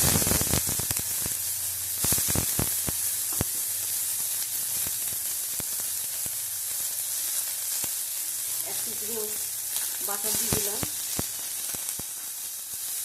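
Onion fries in a hot pan as the base for a chicken momo soup, a dense continuous sizzle and hiss with sharp crackles and the scrape of stirring, heard up close while a voice briefly speaks.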